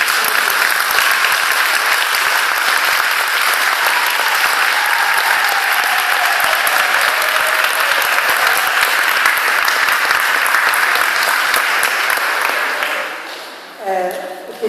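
A standing congregation at a Mass applauds in praise of a priest's life, a dense, loud, continuous wash of clapping lasting about thirteen seconds before fading out, followed by a brief voice.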